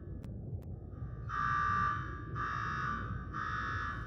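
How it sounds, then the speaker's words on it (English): An alarm rings in three loud, steady electronic buzzing bursts with short gaps between them, over a constant low background rumble and no talking. "Now go shut off that damn alarm."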